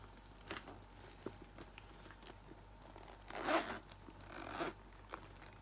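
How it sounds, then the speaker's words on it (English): A Chanel vanity case bag being zipped closed, with light scratchy rustling building to two louder zipper pulls near the end, heard close up with no talk. "when you zip it up"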